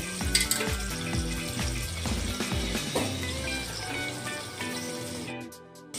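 Steady, crackling sizzle of oil in a hot kadai used for steaming eggplant, loud and continuous throughout with a few clattering knocks; no voices.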